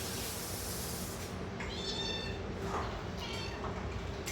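Three-month-old Bengal kittens meow repeatedly at feeding time while wet food is mixed with dry food, several high, close mews over a steady background noise.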